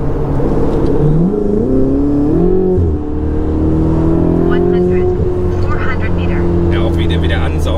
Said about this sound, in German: Ja, auch wie der ansaugt, das Sauggeräusch und so, ist so geil.